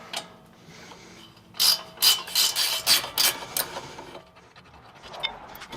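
A ratchet spins rapidly in quick bursts of clicking as it backs out rusty brake caliper bracket bolts on a 2015 Hyundai Sonata Limited's front brakes, close and clear with quieter mechanical handling before and after.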